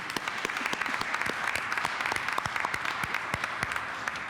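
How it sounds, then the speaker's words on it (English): A conference audience at an expo session on accessible tourism and sustainable development claps in full, continuous applause that stays even and lively throughout, with no talk over it. "I want to give you all a big applause. Please join me."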